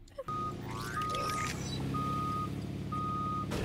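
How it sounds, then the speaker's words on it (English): Truck reversing alarm in a video game, steady intermittent beeps repeating about once a second over a dense background of engine rumble and game noise. "back that dumpy truck up"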